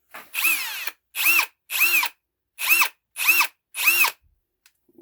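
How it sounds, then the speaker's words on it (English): A Ryobi 18 volt brushless 1/2 in. hammer drill runs in six short, loud whirring bursts, each spinning up and down again with brief silences between, close to the listener. "brushless hammer drill from Ryobi"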